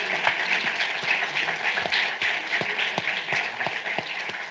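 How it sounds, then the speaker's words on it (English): Sustained applause from a symposium audience fills the room, a dense steady wash of many hands clapping with a few sharper claps standing out, continuous and fairly loud with no talk over it. "They owe you a round of applause for helping them make this happen for them."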